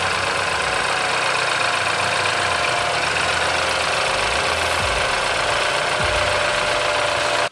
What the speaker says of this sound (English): the engine sound, your car actually sounds like a diesel.